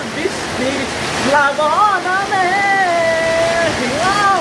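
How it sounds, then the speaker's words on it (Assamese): Heavy rain pours down during flooding in Assam, a loud dense wash of noise that continues while someone talks over it. "বৰষুণ একদম ধাৰাসাৰ হৈ গৈছে একদম ধাৰাসাৰ"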